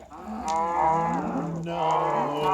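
Cows mooing nearby in Minecraft, two long drawn-out moos one after another over a low steady background hum.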